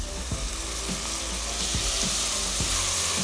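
Minced meat with onion, ginger and garlic frying in a pan, a steady close sizzle with soft periodic stirring scrapes, no voices.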